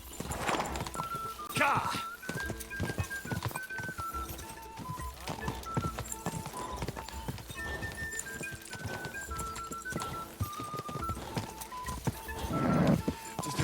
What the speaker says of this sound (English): that horse just keeps going